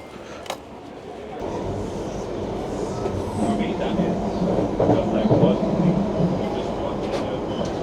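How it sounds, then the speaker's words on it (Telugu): A London Underground metro train runs in a station with a building rumble and rattle of carriages, a mechanical whine rising over it as it nears, while people talk underneath. "సో ఇక్కడ ట్రైన్స్ ఉన్నాయి కదా, ఇవి మెట్రో ట్రైన్స్, అండర్ గ్రౌండ్ అని చెప్పాను కదా ఇంతకుముందు."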